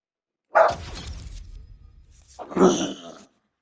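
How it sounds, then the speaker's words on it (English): A pet dog, a young male, gives two loud, close barks about two seconds apart, each with a short noisy tail, in an indoor home setting. "Who you barking at?"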